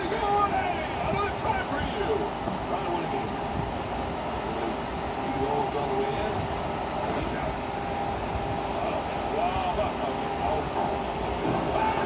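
A runaway train racing along at high speed, its continuous roaring rumble filling the whole stretch with rattling texture, while a narrator talks over it.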